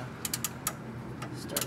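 A hand ratchet works a T55 Torx bolt loose from the brake caliper of a 1988 Pontiac Fiero, giving a few sharp, close clicks in small irregular bursts.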